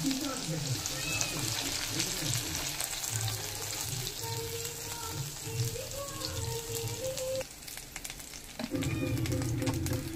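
Fish frying in oil with masala, Mangalore style, a steady soft sizzle and crackle throughout, with someone talking over it for much of the time.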